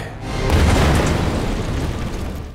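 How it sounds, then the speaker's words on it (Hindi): A horse-drawn carriage blows up in one loud, deep boom that swells quickly and then rumbles away over a couple of seconds, alone without any talk. "पारवूस को ले जाने वाली बग्गी में धमाका हो गया है।"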